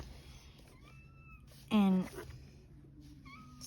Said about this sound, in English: my kitten's down here wanting some attention